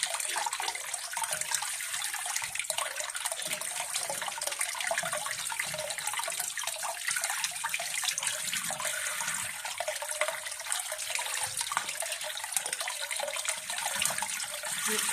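Long green chilies for sinigang being rinsed under a running kitchen tap, a steady close splash and trickle of water that continues throughout with no talking.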